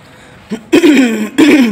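A few short throaty coughs or throat-clearing bursts, close up, the first brief and the next two longer and raspy, separated by short pauses.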